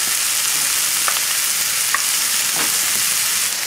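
Cooked spinach fries in a hot pan with a loud, dense sizzle that holds steady throughout, broken only by a couple of faint clicks or stirs.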